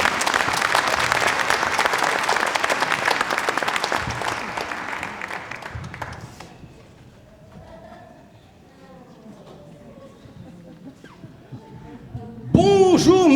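Applause from a cabaret audience at a superhero-themed show, a loud, dense burst of clapping for about six seconds that fades into quiet murmurs, followed by a sudden loud voice at the end.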